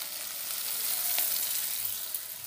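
Ginger, garlic and spice powders like turmeric, chilli and cumin frying in oil in a pan, a dense continuous sizzle close up that holds steady for a couple of seconds.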